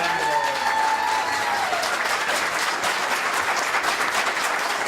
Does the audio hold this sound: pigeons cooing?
no